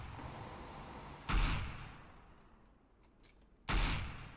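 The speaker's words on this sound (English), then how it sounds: "I'm hearing gunshots." Gunfire in the first-person shooter game Counter-Strike: Global Offensive, two sharp, loud bursts a couple of seconds apart, each trailing off into a fading echo, with no talk.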